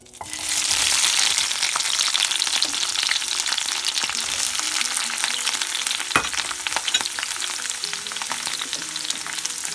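Chopped vegetables for a sofrito, made for Cuban bacalao guisado, hiss in hot oil with a loud, steady sizzle, broken now and then by a spoon scraping and stirring, with no voices.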